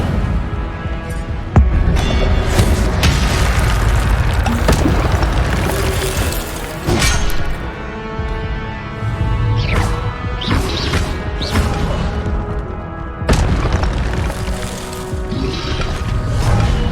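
Incendio fire spell in Hogwarts Legacy on PS5, a series of loud booming blasts and crashing impacts with whooshing bursts, repeated several times over a dense battle soundscape.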